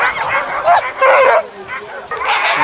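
Sled dogs at a race start in Kamchatka bark and yelp excitedly in a continuous chorus, loud and close, with people talking faintly underneath.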